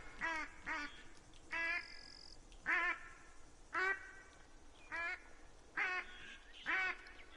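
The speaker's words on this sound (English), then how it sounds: "Ducks still show up and land" Ducks in the hunting game The Hunter: Call of the Wild give a steady series of loud, close raspy quacks, roughly one every second, over faint background ambience with no talking.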